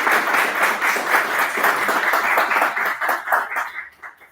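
Audience applause closing a technical presentation on multiscale design and control optimization: dense, steady clapping that holds for several seconds before thinning and fading out, with no speech over it.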